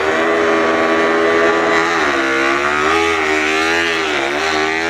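Toy racing motorcycle, a number 93 model, gives a continuous buzzing motor whine that rises and dips in pitch, loud and close throughout with no talk.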